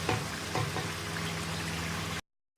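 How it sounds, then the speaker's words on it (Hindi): Beef liver fries in a pan with garam masala, a steady, dense crackling sizzle close by with a few louder pops early on, cutting off abruptly near the end. "अब इसको मैं थोड़ा सा फ्राई करूँगी"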